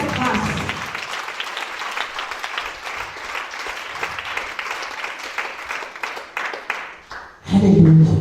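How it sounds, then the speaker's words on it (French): A church congregation applauds steadily for about seven seconds, dense clapping filling the hall, then a louder, different burst of sound takes over at the very end. "Acclamons pour cette grâce"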